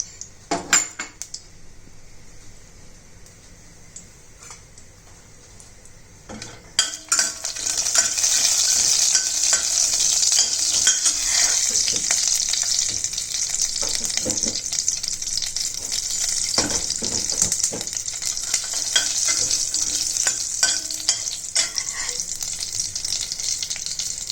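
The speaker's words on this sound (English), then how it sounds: "Now oil, ghee is heated. Put bay leaf, cinnamon and cardamom." Bay leaf, cinnamon and cardamom sizzle in hot oil and ghee, the frying hiss jumping louder after a quiet start and holding steady, with spoon clinks and stirring scrapes against the pan throughout.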